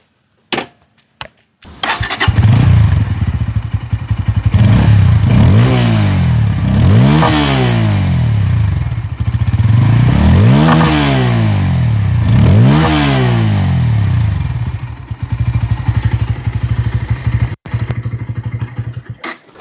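A 2025 Bajaj Pulsar N160 motorcycle starting up after a few clicks, then a loud, close exhaust note with repeated rising revs and a steady idle before shutting off, with no speech.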